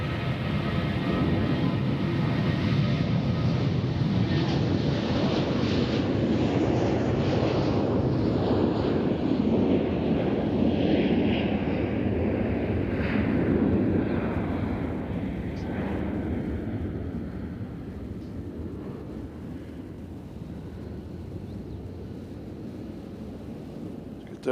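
United airliner bound for Denver at Nashville International Airport, a broad jet roar that swells and then slowly fades as it departs, with wind buffeting the microphone.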